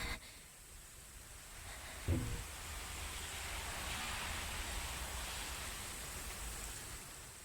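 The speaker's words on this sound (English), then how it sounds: "And to the delightful sound of rain." Steady rain in the horror video game Fatal Frame III, a soft broadband hiss that holds evenly throughout with a brief low thump near the middle and no voices.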